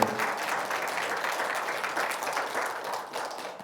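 Sustained applause from a large congregation at a Sunday church service, a continuous wash of many hands clapping at an even, loud level.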